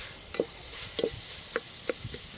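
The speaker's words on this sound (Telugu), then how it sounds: "ఇలాగ కలుపుకుంటూ ఒక 6 పచ్చిమిర్చి ఒక 2-3 నిమిషాలు బాగా వేయించుకోవాలి." Green chillies and ginger paste frying in a pan for mutton curry, with a faint sizzle and a few sharp scrapes and taps of a spoon stirring at irregular intervals.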